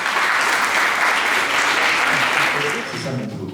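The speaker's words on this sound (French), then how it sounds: "je vous demande d'applaudir Fabien Olicard" Applause from a theater audience greeting performer Fabien Olicard, a dense, loud, steady wash of many hands clapping at once that eases slightly toward the end.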